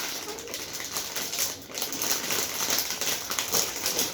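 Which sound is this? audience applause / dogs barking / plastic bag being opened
plastic bag being opened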